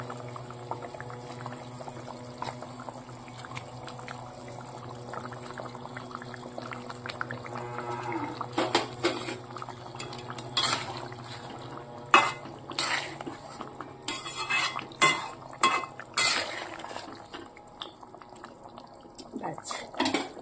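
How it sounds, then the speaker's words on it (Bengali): Fried catla fish pieces go into a bubbling fish curry in a pot, with a steady simmering boil underneath and clattering utensil and pot knocks growing busier in the second half; no talking. "এবার আমি ভেজে রাখা মাছগুলো দিয়ে দেব"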